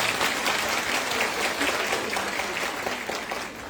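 An audience at a round-table discussion applauds steadily for several seconds, dense close clapping that tapers slightly at the end.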